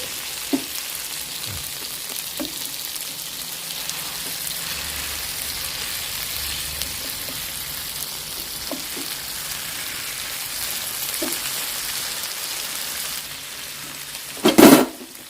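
Stream fish frying in a pan, with a steady close sizzle and crackle throughout and a few faint taps and a louder clatter near the end.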